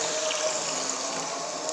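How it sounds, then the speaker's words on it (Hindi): About a kilogram of milk poured into a pot for chana dal halwa, a steady soft liquid stream and trickle close by for the whole moment. "अब इसमें हम दूध ऐड करेंगे तकरीबन 1 किलो।"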